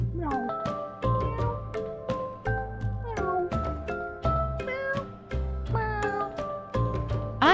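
Cartoonish cat meows from a hidden-cat puzzle game set in Italy and Bali repeat in quick successive calls over light game music, while a person talks intermittently.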